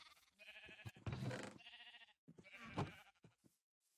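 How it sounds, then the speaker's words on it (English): Sheep bleating in a video game, two long wavering bleats with short gaps between them, loud and close, with no talk over them. "I'm killing sheep."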